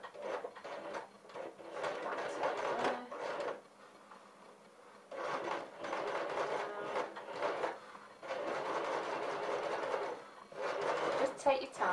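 A domestic sewing machine with a zipper foot stitches an invisible zipper in three bursts of rapid mechanical whirring separated by short pauses, with a person talking quietly in the background.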